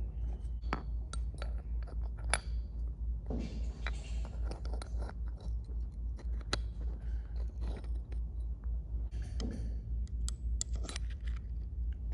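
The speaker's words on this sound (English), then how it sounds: "Now I slide the pads in." Metal brake pads slide into a Harley-Davidson Bad Boy motorcycle's brake caliper, making a scatter of quiet, close clicks, scrapes and light metallic taps at an irregular pace.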